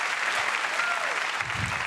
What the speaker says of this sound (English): give all 3 couples a big round of applause